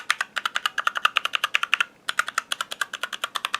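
Fast typing on a Kemove Dierya 60% mechanical keyboard fitted with new keycaps: a steady run of sharp, close clacks with one short pause midway, alone with no talking.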